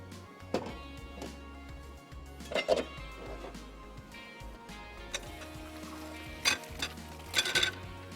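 Masala frying in a pan, a low steady sizzle with occasional louder scrapes and clinks of a spoon against the pan, close and fairly quiet, no talking.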